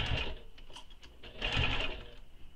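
A sewing machine stitching a fabric tote bag with handles, running in two short bursts of whirring stitching with a brief pause between, close and clear without talk.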